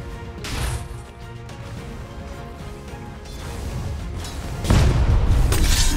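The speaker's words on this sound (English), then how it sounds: "Radiant's middle tower is under attack." A tower comes under attack in Dota 2, with repeated heavy booms and crashing impacts over a rumbling battle bed, the strongest blows landing near the end.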